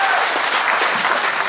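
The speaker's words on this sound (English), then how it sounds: "Please give him a big round of applause one more time." Audience applause at the Myrtle Beach Golf Hall of Fame ceremony, a dense steady wash of many hands clapping that fills the short moment from start to finish, loud and close.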